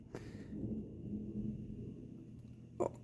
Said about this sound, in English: Wind's getting crazy.